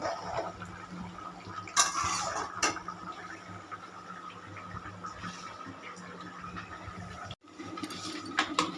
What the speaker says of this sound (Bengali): দুটো বয়েম নিয়ে আসা হয়েছে, আছে শর্ট করে গেছে, আবার একটু মেজে ধুয়ে নিচ্ছি